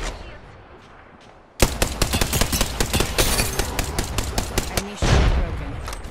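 Rapid automatic gunfire in a shooter video game, loud and continuous bursts of close shots that start abruptly after a quiet lull and keep hammering through to the end with a heavier blast near the close.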